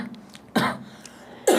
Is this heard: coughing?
yes